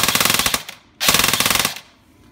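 Blaster firing on a burst setting, two loud rapid strings of mechanical shots with a short pause between them, close and with no talking.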